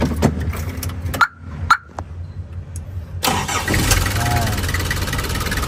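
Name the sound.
car engine starting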